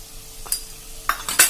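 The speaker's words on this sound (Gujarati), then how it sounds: "અને આ મસાલા આપણે એકદમ સરસ મિક્સ કરી લેશું." A spoon stirs ground spices, turmeric and coriander-cumin powder, into okra frying in a pan. A few brief scraping clinks and soft sizzles come close together in quick succession at low volume.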